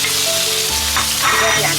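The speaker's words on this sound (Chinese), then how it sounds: "葱姜蒜放进去煸香，西红柿放进去" Scallion, ginger, garlic and tomatoes stir-frying in a hot wok, a steady loud sizzle with the scrape of stirring, the crackle swelling as the tomatoes hit the oil.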